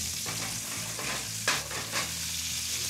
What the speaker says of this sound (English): And you can hear, right away, it's sizzling up.